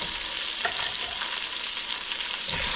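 Tomatoes fry in a pot for Filipino beef sinigang, giving a loud, dense, steady sizzle up close with faint stirring scrapes and no talking.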